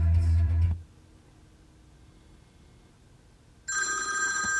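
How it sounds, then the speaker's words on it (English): Music playing through the factory radio of a 2004-2009 Lexus GX stops, and after a quiet pause a loud, steady telephone ring sounds through the car's Bluetooth kit. "the music is gonna pause and you're gonna hear a ring"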